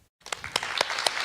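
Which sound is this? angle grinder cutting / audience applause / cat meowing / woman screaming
audience applause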